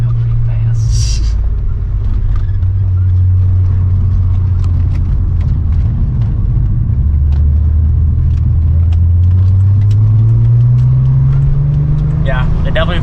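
An MK4 R32 fitted with H&R sway bars is driven hard through a roundabout. From inside, its loud engine drone sags, then climbs steadily as the car accelerates out, with brief voices over the rumble.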